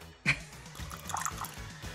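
Water poured and stirred into glue for a cheesecloth ghost craft, a brief sharp splash at the start, then soft continuous liquid trickling and mixing at close range with no talk.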